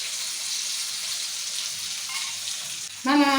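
Masala-coated fish pieces fry in a small amount of oil, giving a steady, close, crackling sizzle throughout, with a voice starting to speak just at the end.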